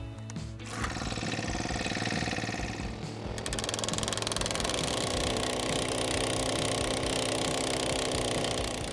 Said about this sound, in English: use our gas powered driver to install a 5 foot ground rod